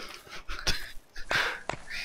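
Hounds in the video game Don't Starve give short, breathy snarls and yelps, three or four quick bursts close up within two seconds, with no talking.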